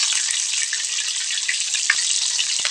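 Mouse deer meat frying in a hot pan gives a steady, dense sizzle with crackling pops, close and continuous throughout.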